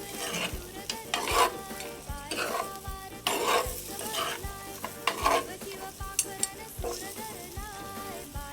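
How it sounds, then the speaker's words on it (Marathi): A spoon scrapes and stirs thick country-chicken mutton curry in a hot pan, with rhythmic strokes every couple of seconds over a steady sizzle, close and moderately loud with no talking. "आणि एकदा परत एकदा कालवून घेऊया मस्तपैकी"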